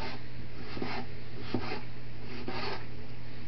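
A knife slices through tomatoes on a wooden cutting board, three soft rasping strokes at an even pace, close and quiet over a faint steady hum.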